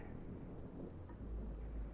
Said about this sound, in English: The rain still hadn't let up.